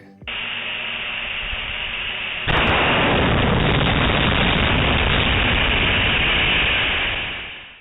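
NASA Space Launch System liquid hydrogen tank test article, pressurized to 260% of flight pressure, bursting open: a steady roaring hiss jumps abruptly into a louder, broadband blast that rumbles on for several seconds before fading.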